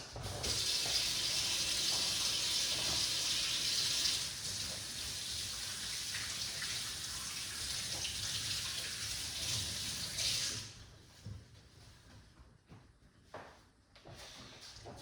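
Tap water runs steadily and loudly into a sink for about ten seconds while a pineapple and turmeric drink is made in a blender, then cuts off, leaving faint kitchen clatter.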